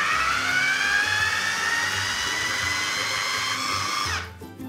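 Blender whirring steadily as it purées cooked split peas with seasoning, a loud continuous motor whine that holds for about four seconds and then cuts off abruptly.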